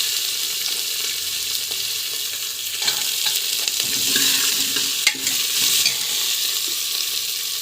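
Chopped cabbage is added and sautéed in a pan, with steady crackling sizzle and repeated scraping and stirring of the vegetables, moderately loud and close, with no talking.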